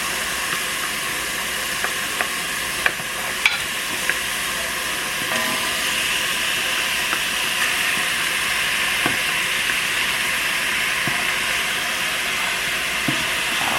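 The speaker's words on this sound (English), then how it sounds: "So then when I put that meat in there, I'm going to get a nice sizzle on those." Short rib meat sizzles steadily in a pan on top of simmering vegetables, a continuous close frying hiss with a few small pops and no talking.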